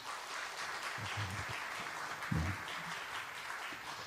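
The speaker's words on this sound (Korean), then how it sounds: "박수 한번 드리도록 하겠습니다" Steady applause from a church congregation at a Sunday service fills the whole stretch, a continuous wash of clapping with a couple of slightly louder bursts partway through.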